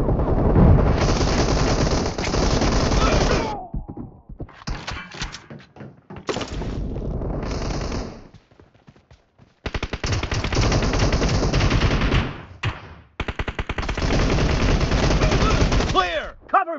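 Rapid automatic gunfire bursts and single shots in a PUBG Mobile team deathmatch, loud and close, broken by short pauses, reload clicks and a brief quiet stretch before more sustained firing.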